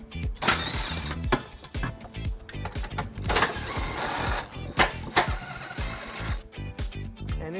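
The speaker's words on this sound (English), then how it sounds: "we're going to remove those using a 12mm socket" A socket wrench with a 12mm socket ratchets out the carbon canister bolts on a 2002 Infiniti QX4, giving bursts of sharp clicking and metallic clatter close by, with brief pauses between runs.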